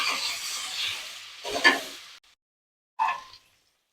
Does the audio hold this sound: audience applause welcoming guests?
no